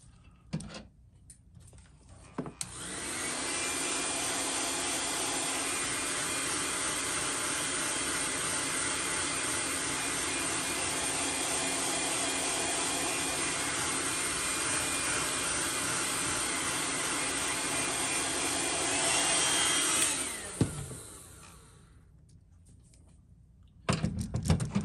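A heat gun blows with a loud, constant roar for about seventeen seconds while heat-setting paint on a fishing lure, then switches off into near silence.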